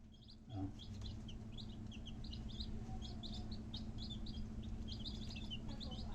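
Brahma roosters and other birds give a steady stream of short chirps and clucks, moderately near, over a constant low hum with a brief thump near the start.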